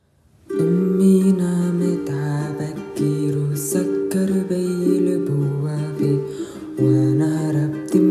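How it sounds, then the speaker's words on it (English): Ukulele strumming steady chords under a singing voice in an Arabic song rendition, full and continuous throughout after a brief quiet start. "the singing part with the strumming pattern and the chord should sound like this."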